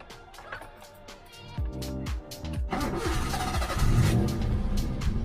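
A 1970s Alfa Romeo Giulia Super 1600 engine with Weber carburetors and a starting fault cranks and catches, then runs with an uneven rumble that grows louder and rougher, heard close up without talk.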